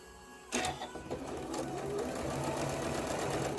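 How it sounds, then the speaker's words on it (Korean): A sewing machine stitches quilt fabric for a three-dimensional bow-tie block, starting abruptly and then whirring in a steady, even run close by, with no voices over it. "네 바느질 합니다"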